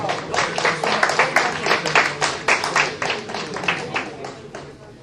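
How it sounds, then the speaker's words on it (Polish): Applause for a fighter stepping onto the scale at a Fight Night 4 weigh-in, a moderate crowd clapping in a steady rapid patter that swells, then tapers off toward the end. "Gorące brawa."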